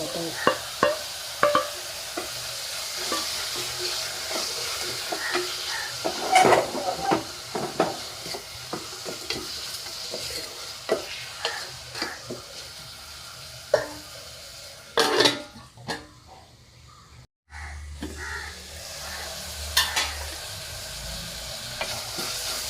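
Chopped tomatoes stirred in a hot frying pan for a Kerala raw-banana curry, with a steady sizzle and repeated scraping of a spoon against the pan, close and moderately loud, with a brief quiet gap near the end.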